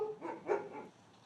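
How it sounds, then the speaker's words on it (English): A wolf-dog puppy gives a few quick, sharp barks close by, followed by a brief quieter tail. "The barking is definitely the dog in her."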